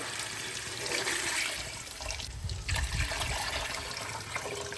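Water is poured into a cooking pot for biryani rice, a steady close splashing and trickling stream that swells briefly midway, with no talking.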